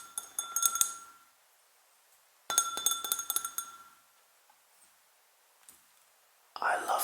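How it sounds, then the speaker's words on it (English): A Glencairn whiskey glass is tapped in two bright ringing bursts of rapid clinks, each leaving a short shimmering tone, with a soft whisper and a rustle between them in a quiet room. "I love the sound of the Glencairn glass more."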